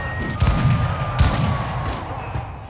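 Gunfire in a historical documentary reenactment of a massacre at an encampment, several heavy booming shots spaced about a second apart, loud and echoing.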